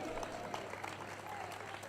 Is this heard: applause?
yes